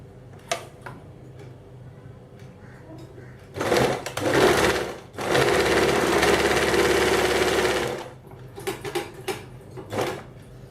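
A sewing machine stitches together the back pieces of a blouse in two bursts, one short and then a longer steady run. Light clicks and handling noises come before and after the stitching.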